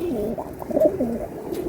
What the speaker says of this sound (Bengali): কবুতরের ডাকা ডাকা দেখাই দেন